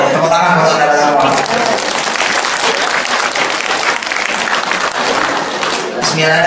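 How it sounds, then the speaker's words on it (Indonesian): Audience applause at a religious lecture on charity by a preacher, loud and sustained, with dense clapping across the whole stretch and voices mixed in under the clapping. "Tepuk tangan buat saudara-saudara."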